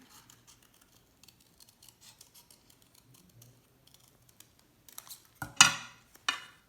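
Scissors cut paper along a drawn line for a notan shape design, faint scattered snips early, then a few louder, sharper cuts near the end.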